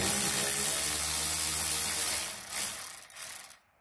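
A hand ratchet turns a 12 mm nut off the bottom of a rear sway bar end link on a Subaru Justy, giving a close, steady mechanical clicking whir that cuts off abruptly at the end.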